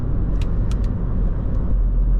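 A 2017 Mini Cooper 1.5-liter 136 hp engine pulling under acceleration, a low steady rumble heard from inside the car with a few faint clicks above it.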